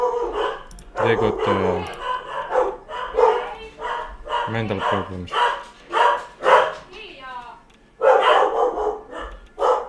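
Dogs bark in repeated bursts of sharp yaps and whimpering yips, fairly close, while someone talks over and between the barks.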